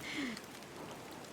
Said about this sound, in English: why did the rain suddenly stop?